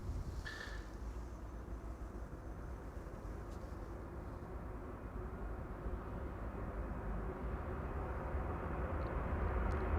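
Steady, broad jet roar from a Delta Airlines Airbus A330-300 at Amsterdam Schiphol, a constant heavy rumble that slowly builds in loudness across the stretch with no voices.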